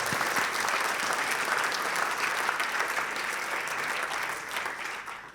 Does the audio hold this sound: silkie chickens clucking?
no